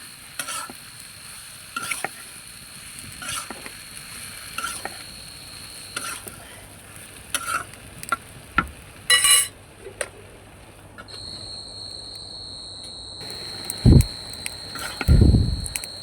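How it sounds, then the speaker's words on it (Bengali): Ridge gourd being stirred in a frying pan with a spatula: scraping strokes and sizzling, with soft clinks and a couple of louder knocks near the end. "ধুন্দুল দিয়ে ভালোভাবে নাড়াচাড়া করতে হবে"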